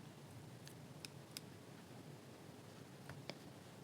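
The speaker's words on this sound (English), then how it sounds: "Now cut the tails" Scissors cut the yarn tails on a crocheted teddy bear amigurumi with a few quiet, sharp snips spaced over a few seconds, close by in an otherwise hushed room.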